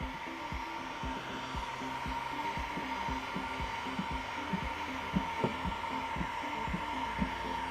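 A heat gun blows steadily while shrinking window tint film on a Lincoln MKX liftgate, a constant close airy hum and whine with faint rhythmic thumps running underneath.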